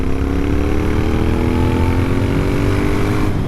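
An Interceptor 650 motorcycle exhaust holds a steady, loud rumble near 3,000 revs at about 30 miles an hour. The note stays close and continuous throughout, with no voices.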